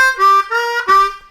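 Close and loud, a harmonica plays a blues riff, a brief three-note phrase of bright reedy tones with a bend dipping into the last note.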